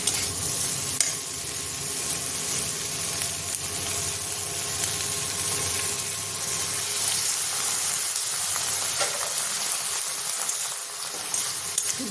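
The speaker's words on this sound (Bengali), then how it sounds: "একটু জল দেব।" Water added to a pan simmers with a loud, steady hiss and sizzle while a utensil stirs, scraping close by throughout, with no voices.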